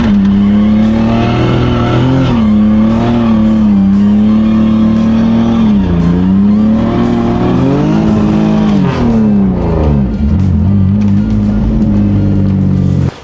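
A BMW E46 with an open differential revs hard while sliding sideways on a track, its engine note loud and close, rising and falling continuously with tire noise throughout.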